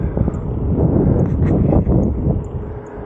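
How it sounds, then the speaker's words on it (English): Wind buffeting the microphone during a bicycle ride, a loud continuous low rumble and roar lasting throughout with no break. "I got the wind at my back now"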